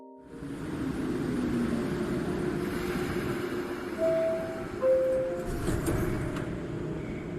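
A subway train in a video game rumbles along continuously with a dense low roar, while faint tonal squeals and beeps rise briefly over the steady running noise.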